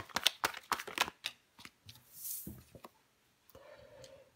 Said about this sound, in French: Je vais recouvrir ce valet d'épée.